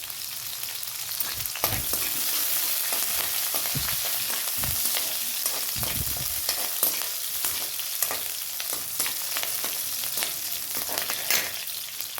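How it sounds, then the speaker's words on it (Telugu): Kala chana frying in hot oil with green and red chillies, a steady dense sizzle running throughout with occasional stirring knocks and pops, close and alone. "ఇప్పుడు వేగనిద్దామండి. మనం పచ్చిమిరపకాయలు వేసుకుందామండి. ఎర్రమిరపకాయలు వేసుకుందామండి."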